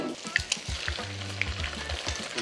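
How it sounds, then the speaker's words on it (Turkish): A burger and an egg sizzle and crackle in hot oil, with scattered pops and a few scraping stirs up close; no one speaks. "Yani hamburgeri de kızartıyoruz."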